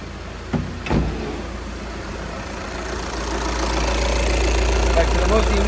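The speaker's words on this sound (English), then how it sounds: "Engine is running there now." A Volkswagen Passat engine idles steadily after a sensor reference-voltage fault was repaired, a low continuous hum that grows slightly louder over several seconds after two brief knocks near the start.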